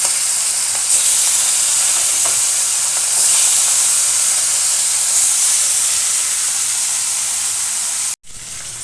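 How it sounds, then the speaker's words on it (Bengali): Hilsa fish fries in hot oil with a loud, steady hiss and sizzle that runs unbroken, ending abruptly in a brief cut. "তেল গরম হয়ে গেছে, এবার মাছ দিয়ে দেব। মাছগুলো একটু হালকা করে ভেজে নেব।"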